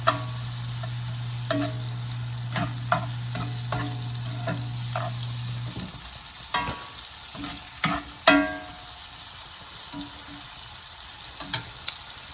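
Food cooking down in a pan while being stirred for game-day appetizers, a steady sizzle and frying hiss with scattered scraping stir strokes and clinks, a low hum fading out partway through, no talking.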